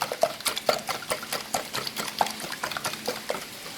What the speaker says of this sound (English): I'm going to mix that in as well with all the other ingredients.